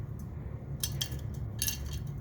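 Glass test tubes clink against one another and the rack as they are set into a boiling water bath in a sugars chemistry lab, two short bright bursts of clinking over a steady low bubbling rumble.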